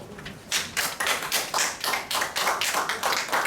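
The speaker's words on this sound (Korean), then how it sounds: "큰 박수로." A small audience at a classical music appreciation club meeting gives a guest a short burst of applause, sparse individual hand claps in an uneven rhythm, close and fairly loud.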